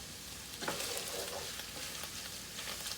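Beef and broccoli stir-fry sizzles loudly and steadily in a hot pan, a dense continuous frying hiss with occasional small pops and no talking.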